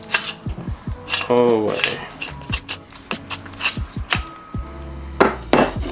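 Metal parts of a rear coilover from an Infiniti G35 coupe clink, scrape and grate up close as the part is unscrewed by hand, in irregular short bursts, with a brief spoken phrase.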